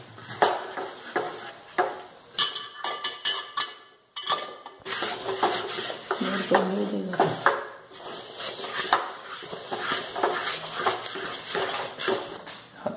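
A spoon scrapes and knocks against a pot while brown rice flour batter is stirred for the East Indian sweet Khapshyo, giving irregular close clinks and scraping strokes that repeat steadily throughout.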